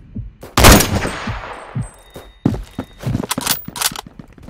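A big sniper-style weapon fires in a Roblox shooter game. One loud, sharp blast rings out with a long decaying tail, then a tighter cluster of punchy shots follows, all close and prominent.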